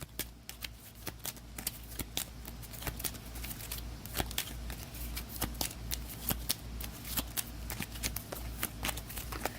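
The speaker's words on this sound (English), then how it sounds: "Actually, we'll shuffle these elixirs up." A stack of Hero Realms elixir cards is shuffled on a table, with rapid, close riffling and snapping card clicks in an uneven rhythm for several seconds, without talk.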